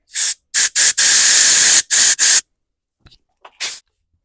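Loud, close blasts of compressed air hissing through a Honda mower carburetor in several short bursts and one long steady blow, followed by a few faint puffs.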